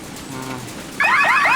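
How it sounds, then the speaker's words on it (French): In a cartoon, an incubator alarm rings out as a loud, repeating electronic warble with rising sweeps, cutting in abruptly after a quieter stretch. "L'alarme de la couveuse."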